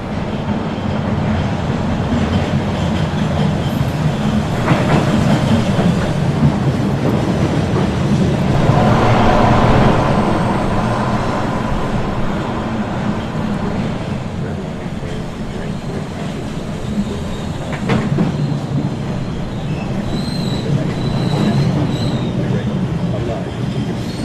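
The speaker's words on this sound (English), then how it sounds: "the next Red Line train to Braintree is now arriving" A Red Line subway train pulls into a station with a loud, continuous rumble and rattle of wheels and cars, and a station announcement voice sounds over the noise.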